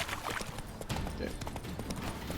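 Roach the horse from The Witcher 3 moves at a steady clip-clop, the hoofbeats sitting under dense game sound, with a voice talking briefly over them.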